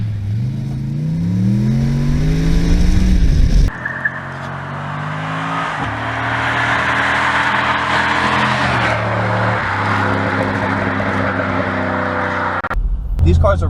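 A 2007 Chevrolet Monte Carlo SS with a 5.3-liter V8 accelerates hard, its engine note climbing steadily through the gears in a loud, continuous roar, with a brief break around the shift before it pulls again.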